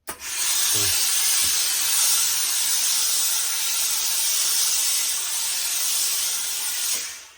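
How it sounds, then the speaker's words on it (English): Steam hisses steadily onto a fur felt hat as it is reshaped, a continuous close, loud jet lasting several seconds with a couple of brief knocks near the start, then cutting off. "I'm going to put a bit of steam on and put some shape into it."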